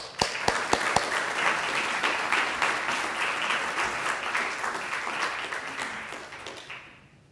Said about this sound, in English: let's clap our hands for the expert tonight, Professor Roger Deane.